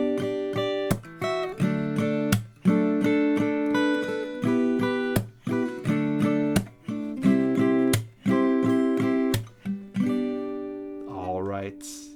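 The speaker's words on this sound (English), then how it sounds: "all chords played in the chorus, it sounds like this." Guitar chords from the chorus of a song are strummed in a steady rhythmic pattern with clear, ringing chord changes, alone without talk, ending on a sustained chord.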